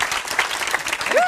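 Audience applause fills a crowded hall, steady dense clapping at close range with a few cheers rising through it, continuing without a break and without talk over it.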